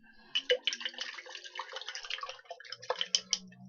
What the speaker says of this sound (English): And I'm rinsing my brush.